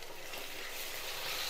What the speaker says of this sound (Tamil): இப்போது இந்த தக்காளி இதில் சேர்த்துறேன்.